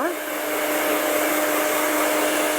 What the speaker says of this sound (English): I'll take the blow dryer on medium heat.